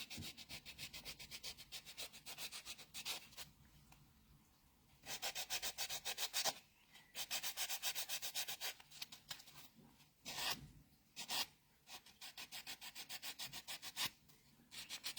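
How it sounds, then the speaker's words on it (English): A nail buffer rubs back and forth over a smooth dip powder nail in quick, rhythmic scratchy strokes, broken by short pauses, close and fairly soft with no talking. "And just give those a good buff down."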